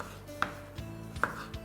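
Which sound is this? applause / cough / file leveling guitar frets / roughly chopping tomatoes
roughly chopping tomatoes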